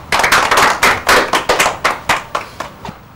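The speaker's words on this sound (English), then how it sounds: "Okay, clap for him." Classroom children give a pupil a short burst of applause, about ten sharp claps in a quick, slightly uneven rhythm that fades toward the end, close and clear with no talking over it.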